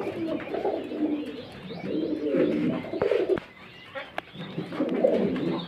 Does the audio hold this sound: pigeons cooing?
yes